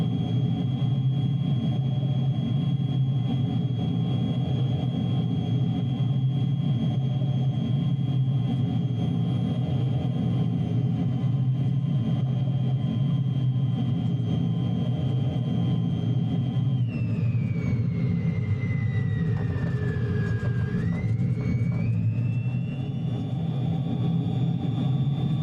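A De Havilland Vampire jet loops in Microsoft Flight Simulator 2020, with a steady droning engine rumble and a high whine that dips sharply in pitch midway through the loop, then rises again.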